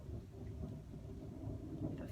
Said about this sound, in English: The thunder gods are speaking, as Sheila Applegate would say.